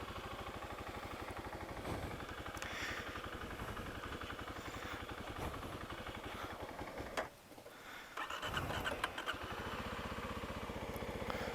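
A Kawasaki KLX300 dirt bike engine runs unevenly with a fast, rhythmic thumping, fairly quiet. It stumbles and nearly dies around the middle, then picks back up with a rougher, louder beat.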